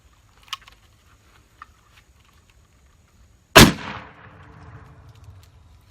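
A break-open 12 gauge shotgun fires a single black powder substitute load of number 5 shot: one sharp, loud blast mid-clip that rings out and trails off, preceded by a few faint clicks of handling.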